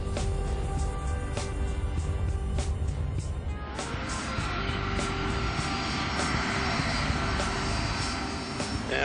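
Lockheed C-5 transport aircraft touches down on the runway as its spoilers deploy, with loud steady jet engine roar and rattling, shifting to a broader rushing roar partway through.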